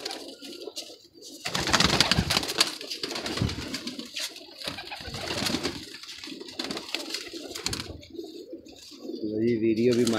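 Pigeons coo among kept birds while people talk nearby, the soft throaty calls coming and going under the conversation at moderate distance, with a brief rise near the end.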